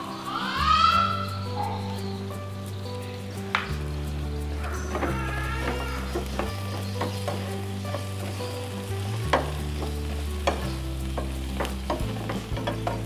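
Tofu and spring onions stir-fry in a hot pan, a continuous sizzle with the frequent scrape and clatter of a spatula tossing the food, close and fairly loud, no voices.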